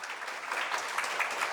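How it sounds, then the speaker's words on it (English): An audience at a school maths quiz competition claps for the student contestants, a dense, steady patter of many hands from a moderate distance, with no talk. "let's give them shower clapping"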